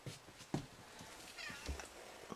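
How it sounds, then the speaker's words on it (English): A cat named Zoe, kept in a bathroom, meows faintly a couple of times at separate moments over a quiet indoor background. "This cat needs a home."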